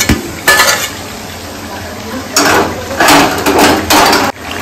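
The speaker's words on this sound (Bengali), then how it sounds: "আমাদের মাটন কষানো কমপ্লিট হয়ে গেছে" Mutton being stir-fried (kasha) in a pan: loud bursts of scraping and stirring come in uneven clusters over a low background hiss, with a voice faintly present.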